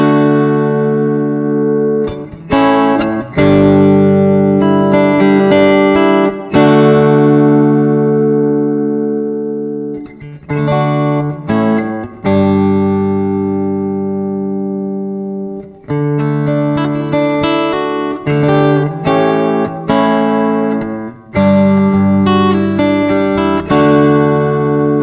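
Donner Hush-i Pro acoustic-electric travel guitar played through a compression effect, strummed chords ringing out loud and sustained in several phrases with brief pauses between, no talking.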